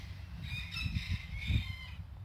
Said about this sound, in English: can you hear those birds over there?